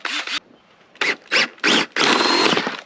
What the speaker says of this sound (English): I'm going to drill that up from the other side with a larger drill bit